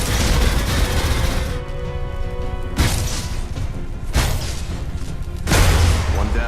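Turrets in the sci-fi shooter game Alien Rage unleash dense, loud bursts of gunfire, sustained rattling volleys broken by short gaps, crashing close and unrelenting with no voices over them.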